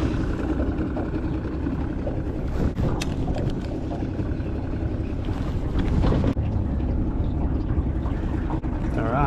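An old two-stroke outboard motor runs steadily on a boat while fishing for yellowbelly, a continuous close engine drone mixed with wind buffeting the microphone throughout.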